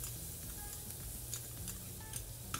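Chopped onion sizzling in hot vegetable oil for mushroom soup, a faint, steady crackle with small pops and light stirring, heard alone without talk.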